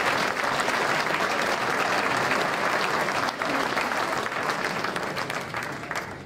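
An audience applauds in sustained, even clapping that fills the space at a town hall event in Montagny, France, slowly tapering toward the end.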